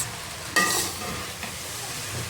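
Boiled rice is stirred and mixed in a hot pan for restaurant-style chicken fried rice. A sharp scrape and clatter of the spoon cuts over a continuous close sizzle, with no talking.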